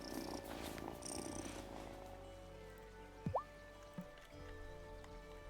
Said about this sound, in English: But we're gonna pet the cat first.